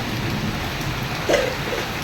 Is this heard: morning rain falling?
yes